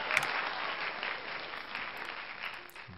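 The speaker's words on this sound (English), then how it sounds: "And the crowd goes wild." Crowd applause sound effect, a dense wash of clapping from a large crowd at moderate loudness, continuous for about three seconds and tapering slightly toward the end.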